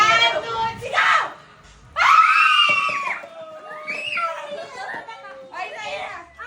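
Children shout and scream together in bursts during a New Year's Eve party game, loud and close, with excited chatter and giggling between the yells.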